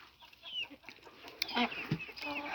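Chickens cluck softly nearby in a yard, with a few scattered calls over quiet background noise.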